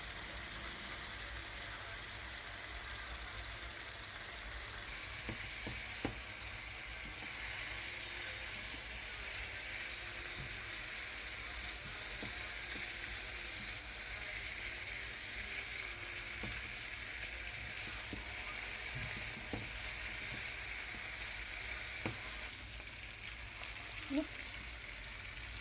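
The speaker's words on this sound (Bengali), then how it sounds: "এখন সেই মাখানো মাছগুলো দিয়ে ভেজে নেব।" Marinated fish fries in a pan with a steady, even sizzle that continues throughout, with occasional faint clinks and stirring noises.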